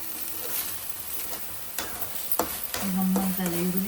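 Onions frying in a pan, turned golden brown for dhaba-style palak paneer, give a steady close sizzle broken by sharp scraping stirs of a spoon against the pan, with a brief squeaky tone near the end.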